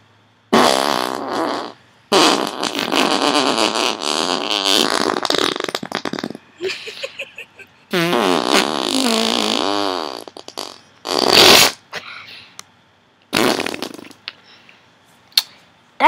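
Long bursts of rapid, rattling farts come in fast staccato volleys like machine-gun fire, loud and close, separated by short silences and ending with a few shorter blasts, with no talking.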